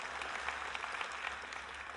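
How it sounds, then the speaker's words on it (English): An audience claps at a talk, a soft, steady spread of many hands with a low hum underneath, continuous throughout. "not all of you have to clap"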